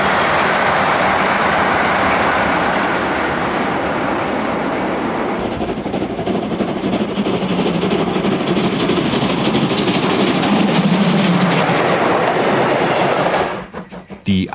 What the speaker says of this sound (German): Eine seltene Begegnung mit einer Lok der Baureihe 280, der ersten Nachkriegsentwicklung einer Diesellok bei der DB.